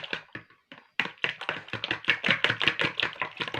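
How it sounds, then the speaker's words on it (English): Eggs beaten by hand in a bowl for mandazi dough, a quick run of rapid, rhythmic tapping strokes after a couple of short opening taps and a brief pause, close and fairly loud with no talking. "I'm going to beat the eggs"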